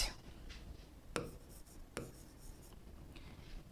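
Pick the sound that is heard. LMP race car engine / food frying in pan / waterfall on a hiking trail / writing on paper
writing on paper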